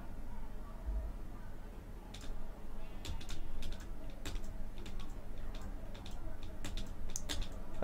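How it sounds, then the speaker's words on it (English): Clicky typing on a computer keyboard, irregular clusters of sharp key taps over a steady low hum, fairly close and moderately loud. "I just realized my keyboard's gonna be really loud"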